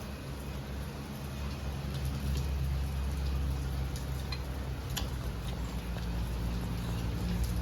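Steady rain falls throughout, a dense close hiss with scattered ticking drops on a surface and a low rumble underneath, continuous and fairly loud with no voices.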